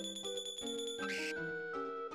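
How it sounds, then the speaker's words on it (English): A bell rings in the video game Chrono Trigger, a bright tinkling chime standing out briefly over steady game music. "Ring that bell."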